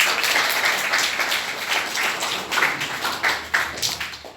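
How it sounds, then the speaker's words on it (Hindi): A crowd applauding with a scattered, continuous patter of claps that swells and fades over a few seconds, no voices. "तालियां बजाओ।"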